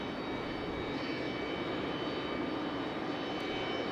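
Airbus A319 jet arriving from Dulles at Raleigh-Durham airport, a faint, steady distant engine rumble with no voices.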